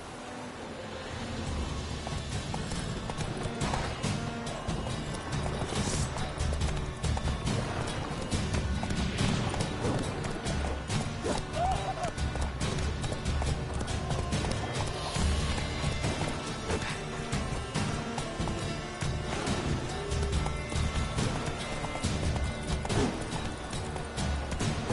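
Roach, Geralt's horse in The Witcher 3, galloping with a dense continuous drum of hooves under loud game noise and clatter, no talk over it.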